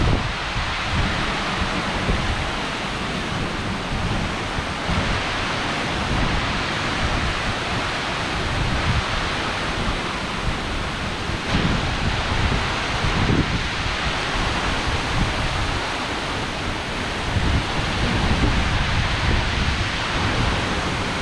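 Heavy rain pouring down during a severe thunderstorm on an evening in Southeast Michigan, a dense, unbroken roar like a waterfall that stays loud and steady with no voices over it.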